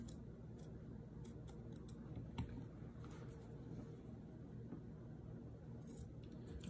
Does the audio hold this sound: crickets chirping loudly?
no